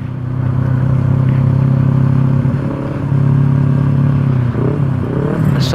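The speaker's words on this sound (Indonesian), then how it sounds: "Di depan ini ada motor yang knalpotnya besar sekali." A motorcycle with a very loud, large exhaust rides ahead on the mountain road from Batu to Pacet, its engine a steady, close, heavy drone with rattling clatter throughout.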